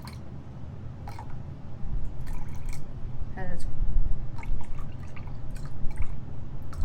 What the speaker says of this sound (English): And then I go ahead, add my water